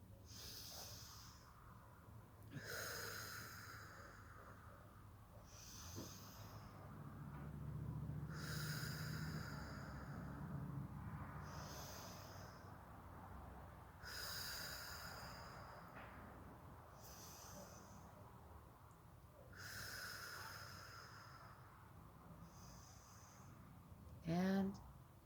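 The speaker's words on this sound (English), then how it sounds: "Let's get our high five breathing going." Slow, deep "high five" breathing exercise during a children's storytelling session: four or five long inhale-exhale cycles, close and soft, with faint hissing air between breaths and a brief knock near the end.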